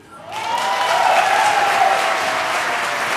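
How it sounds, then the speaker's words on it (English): A television studio audience breaks into applause after a vanilla taste-test result is revealed, steady broadband clapping swelling in within the first half second and holding loud and even, with a faint whoop or cheer riding over it. "you're applauding"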